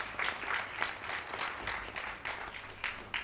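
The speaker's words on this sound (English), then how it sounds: "A warm round of applause to India." An audience clapping at an education-sector event on the future of learning, a fairly faint, steady patter of many hands, heard from some distance without any voices over it.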